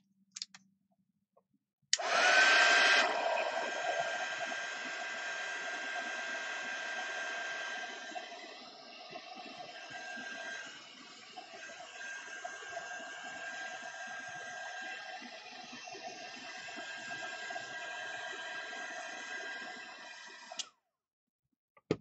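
A hair dryer blasts air over handmade craft pieces, starting abruptly with a loud whoosh and then running as a steady whirring hum with a thin whine for nearly twenty seconds before cutting off.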